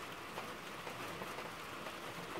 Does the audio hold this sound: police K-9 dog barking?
no